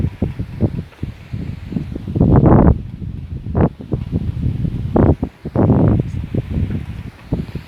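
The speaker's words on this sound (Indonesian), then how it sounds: "saat ini angin kencang dan baling-baling itu berputar sangat kencang" Strong wind gusts buffet the microphone on Mount Merapi in rough, surging bursts, loud and close, rising and falling over several seconds with no voices.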